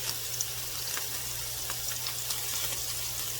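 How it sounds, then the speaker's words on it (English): Chopped vegetables and roasted sliced garlic sweat in a pan with a steady, soft sizzle and faint scattered crackles, close and even throughout. "we're going to sweat these out, which means that we're just going to cook them a little bit so they're soft"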